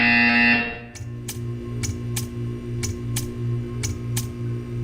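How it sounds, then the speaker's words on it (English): A buzzer sounds in the Portal 2 test chamber, a steady electronic drone pulsing in regular beats, joined by sharp repeated ticks, loud and close with no talk. "You will hear a buzzer."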